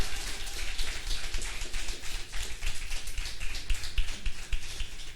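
A church congregation applauding the Lord during a sermon, a dense, steady crackle of many hands clapping at once, loud and continuous with no voices over it.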